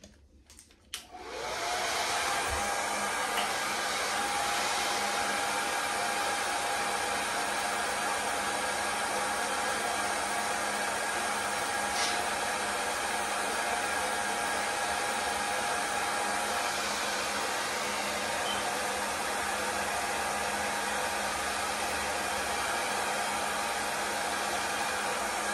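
A heat tool blows hot air steadily to dry glue on a counter during party preparations, a loud continuous whooshing roar that starts after a brief quiet moment and runs unbroken without speech.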